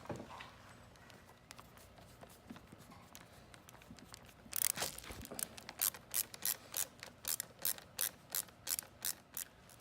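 Screws are driven to fasten a headlight onto the handlebars of a Phat golf scooter, heard as a run of evenly spaced ratcheting clicks that grow louder and more distinct toward the end, after a quieter stretch of handling noise.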